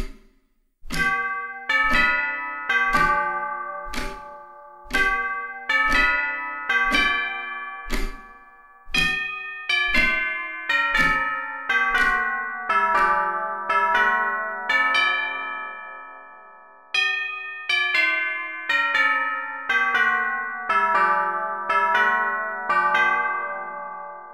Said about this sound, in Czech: Tento stroj poháněl nejen věžní hodiny, ale od roku 1723 i sošku Černého Janka, umístěnou na věži a zvonící vždy minutu před každou hodinou.